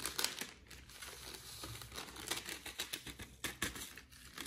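A plastic bag of salt handled in a kitchen, giving close crinkling and rustling with irregular crackles that grow into quicker bursts toward the end, with no voices.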